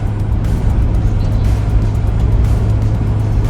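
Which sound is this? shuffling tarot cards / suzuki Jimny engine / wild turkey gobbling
suzuki Jimny engine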